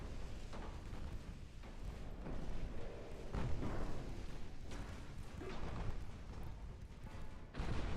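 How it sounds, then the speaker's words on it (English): A torpedo striking a warship in the naval battle game Ultimate Admiral: Dreadnoughts, heard as muffled booms and rumbling impacts amid continuous gunfire and sea noise, moderately loud and sustained, with a sharper burst near the end. "We took another torpedo."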